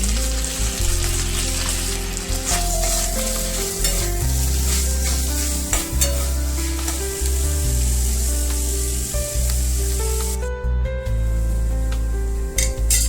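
Ginger garlic paste frying in a hot pan with stirring, a dense continuous sizzle close up, scraped and stirred throughout for the full length.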